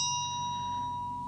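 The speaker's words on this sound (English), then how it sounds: "I have this Tibetan bell" A Tibetan bell rings with one sustained, clear metallic tone and bright overtones, close and steady over its short length, with no voices.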